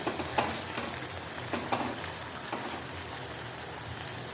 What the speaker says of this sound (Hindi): तो इसे धीरे से चलाते हुए हल्के आंच पे पकाएंगे